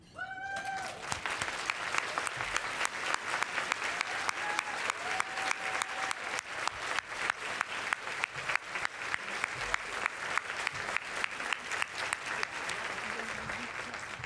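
A luncheon audience applauds retired women elected officials at a Women's History Month event in Bloomington, with steady, sustained clapping that holds strong throughout, a few whistles and whoops rising early on.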